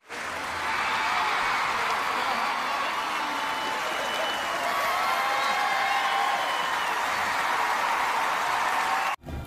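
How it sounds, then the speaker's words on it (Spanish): A cinema audience applauds in a Cinépolis 4DX screening of Avatar. The dense, steady clapping lasts about nine seconds, with some murmured cheering mixed in, then cuts off abruptly. "Aplausos, por favor, aplausos."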